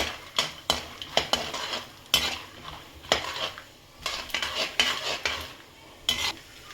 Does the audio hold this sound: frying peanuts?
yes